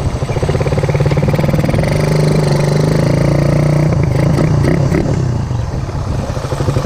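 Motorcycle engine idling high after a full jetting change, a steady loud drone with slight rev wobble and some mechanical clatter, close by throughout.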